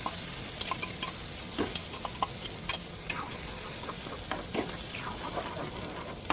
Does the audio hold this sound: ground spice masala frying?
yes